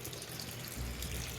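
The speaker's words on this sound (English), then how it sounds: "it's still spitting out cold water" A Maytag Atlantis washing machine spraying cold water into its drum, a steady close rushing hiss of water with a slightly heavier low surge partway through.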